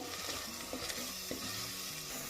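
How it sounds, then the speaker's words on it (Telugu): Tomato and onions fry quietly in a pan for a curry, giving a soft steady sizzle with a few light scrapes of stirring. "టమాటాను కూడా బాగా వేపుకోవాలండి"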